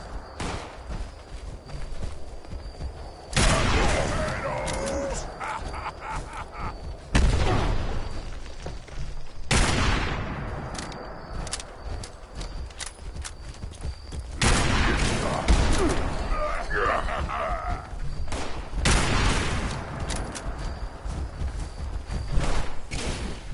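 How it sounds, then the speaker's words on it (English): Minigun fire in a house-building video game, sounding as several long, loud bursts of rapid continuous gunfire separated by short pauses, with booming impacts. "He's got a minigun."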